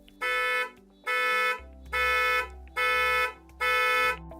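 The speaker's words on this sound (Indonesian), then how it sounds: "nanti suara klakson dan kedip lampunya harusnya bakal membantu saya menemukan mobilnya" Five evenly spaced electronic car horn honks from a Hyundai IONIQ 5 triggered by remote app, each about half a second long, loud and close with short gaps between them.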